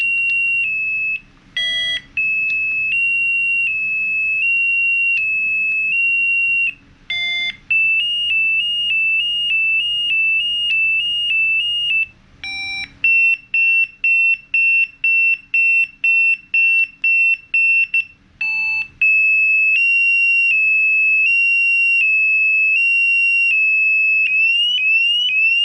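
Bike alarm cycling through its tones: a loud, piercing electronic beep held in long steady stretches, broken by short chirps and a run of rapid repeated pulses before returning to a continuous high tone, close and alone.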